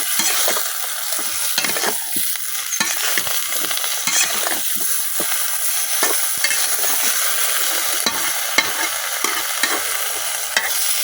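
Mixed vegetables with turmeric and chili stirred in a hot pan, giving a steady sizzle with frequent scraping stir strokes throughout.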